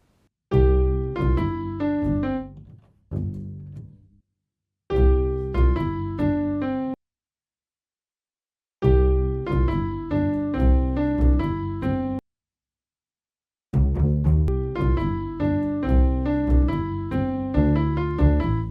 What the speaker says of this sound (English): now I want to add the bass and I want it to sound something like this